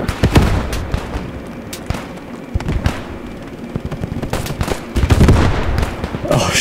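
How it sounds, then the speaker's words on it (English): Gunfire from enemy soldiers in the WWII shooter Squad 44 during a D-Day Normandy invasion, with rapid cracking shots and bursts scattered throughout, some close and loud, some distant, against a rumbling battlefield backdrop. "They're all shooting at me."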